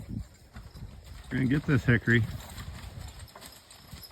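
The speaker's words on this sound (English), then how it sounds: "Horses coming yonder." Registered Belgian draft horses walk toward a logging site, their hooves clip-clopping at a moderate distance while someone talks over them.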